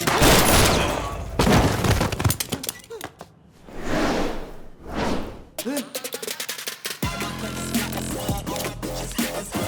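Gunfire in a Hindi-dubbed gangster action movie, with loud bursts and volleys of shots that come and go across the scene under a dramatic music score, alongside booming impacts and short pauses between the barrages.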